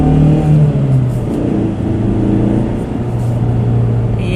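A 2015 Mazda3 GT with a 2.5-litre engine and manual transmission accelerates, a loud steady engine drone heard from inside the car, pitch dipping and then climbing as it pulls.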